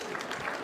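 A brief burst of audience applause for the musician, dense clapping across the whole moment with a murmur of crowd noise.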